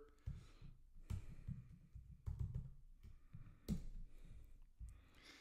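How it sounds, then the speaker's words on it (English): Light keyboard typing at a computer, short clusters of quiet clicks and taps in bursts separated by brief pauses, close and faint. "I'm going to just type in proofreader."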